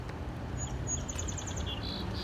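A 2015 Audi A4 Komfort chirps as its doors lock: a quick run of faint, high, short electronic beeps over a low background rumble, with no talking.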